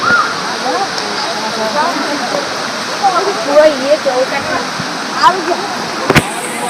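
A waterfall at a hillside temple site pours in a steady, loud broadband rush, with faint birdsong chirps and a sharp click near the end over the constant roar of flowing water.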